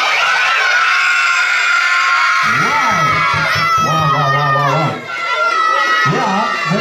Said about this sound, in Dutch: roepen jullie heel hard Sinterklaas. En dan wil ik eerst de meisjes